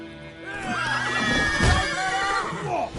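A horse in The Witcher 3 video game gives a loud, close whinny that rises and wavers, backed by a brief snort and faint clip-clop of hooves.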